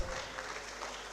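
An auditorium audience at an award event clapping steadily for students being honoured, a brief, even wash of applause with no pauses.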